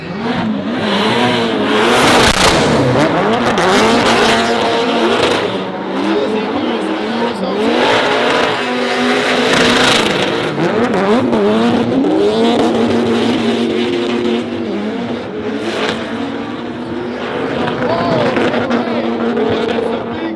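Drift cars on Nitto tires run a tandem lead run at the LZ Invitational Top 16 competition: loud engines rev and fall repeatedly and tires squeal continuously, with a commentator talking over the action.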